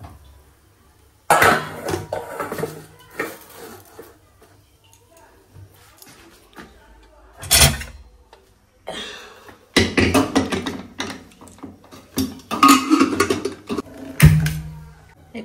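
A cooking pot is lifted off a gas stove after the flame is turned off, giving a few clattering metal knocks and scrapes amid quiet kitchen pauses, with a sharp clank near the end.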